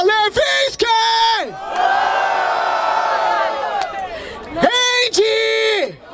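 Rap battle crowd at Batalha da Aldeia in Barueri roars, cheers and yells loudly and continuously for a freestyle rapper, with bursts of shouted chanting at the start and end around a sustained wall of crowd noise.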